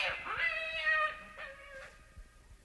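A cat meowing in a radio drama: a drawn-out rising and falling meow, then a couple of shorter meows, close and prominent against a quiet background with faint low thumps.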